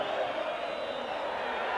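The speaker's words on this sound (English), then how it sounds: "The crowd are whistling for the 90 minutes to end." A large football crowd in a 1990–91 Notts County match roars and whistles for full time, a dense, steady wall of sound with high whistling tones layered over the noise.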